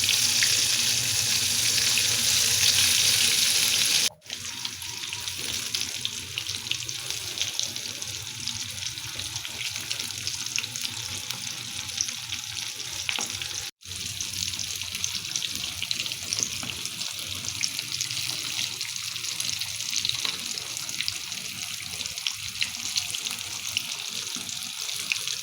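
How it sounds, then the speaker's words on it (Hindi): Masala-coated fish fries in hot oil, giving a steady hissing sizzle that runs continuously at a moderate level, with two brief dropouts and no talking. "तो तेल में हम फ़िश को ऐड करते हैं"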